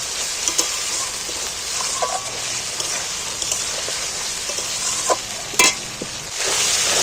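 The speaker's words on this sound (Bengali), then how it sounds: "এইবার আদা রসুন দুটোকেই একটু তেলের মধ্যে ভেজে নেব" Ginger garlic paste frying in oil for a chicken curry, a close, continuous sizzle with scattered spattering pops and occasional stirring clicks, heard alone.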